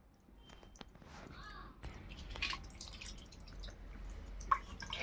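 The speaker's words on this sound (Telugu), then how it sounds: "ఈ రకంగా మొత్తం చింతపండు పులుసు అంతా ఇలా పోసేసుకొని చూడండి" Tamarind extract is poured into a Nellore-style fish curry, giving a faint, soft trickle broken by scattered drips and small splashes heard up close.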